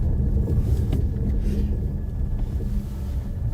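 A car on snow tyres rolls along a snowy road with a loud, close, continuous low rumble of tyres and engine, plus some wind buffeting and no talking.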